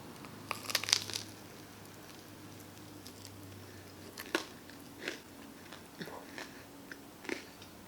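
Close, quiet crunchy bites and soft chewing of grilled cheese with jam, scattered irregularly over a low steady background hum.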